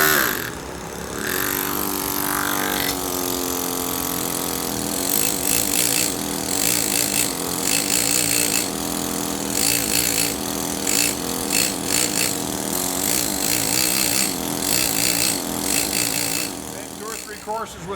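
A ripper chisel works a granite block while it is being squared, making rapid, sharp chattering bursts in steady runs over a constant mechanical drone, loud and close.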